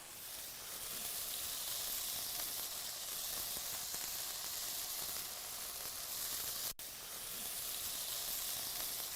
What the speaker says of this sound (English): Now I want to add my onions.